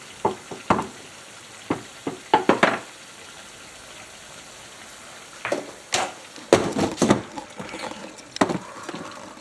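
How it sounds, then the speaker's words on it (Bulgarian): Rice being stirred in a frying pan with a spoonful of cumin, giving scattered scraping knocks and soft sizzling in short bursts, close by with no talking. "Така разбъркваме и ориза."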